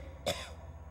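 A man in the video game Metal Gear Solid: The Twin Snakes gives a single short, harsh cough, close by and alone over a faint low hum.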